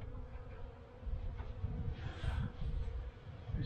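Honeybees in a winter hive in Pennsylvania hum with a low, continuous buzz from the cluster inside the box, steady and close with slight swells in intensity and no voices.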